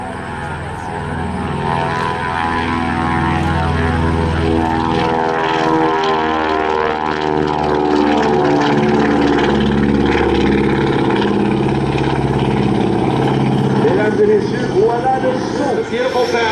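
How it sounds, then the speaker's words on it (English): The propeller airplane Canadian Queen rolls down the runway for takeoff at an airshow, a loud, steady, throbbing engine and propeller drone that swells and holds throughout. "Canadian Queen is on the takeoff roll. I want you to listen to the sound from the runway."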